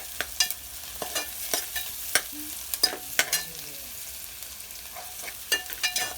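Onions fry to a reddish brown in a pan for mushi (baby shark) curry, with a soft, steady sizzle broken by sharp, irregular clicks and scrapes of a spatula against the pan.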